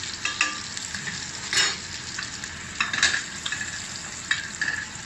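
A thick steak fries in butter that is turning nutty brown in a pan, giving a close, steady sizzle with sharper crackles and spits now and then. No one speaks.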